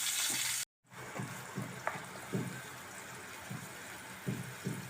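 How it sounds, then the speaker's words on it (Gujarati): Water is poured into hot oil tempered with mustard seeds, cumin and asafoetida in a pan, giving a loud rushing splash that cuts off abruptly. Soft sizzles and light clinks follow. "થોડુંક પાણી નાખી દઈશું."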